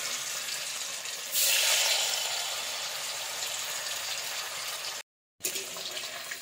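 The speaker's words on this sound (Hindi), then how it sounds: "तेल टे गरम हेले ताधे पनीर पकई छाड़ी पनीर पकेदवा" Paneer frying in hot oil for a mixed vegetable curry, a steady, close hiss that swells loudly for a moment, then settles, with a brief dropout before the sizzle resumes.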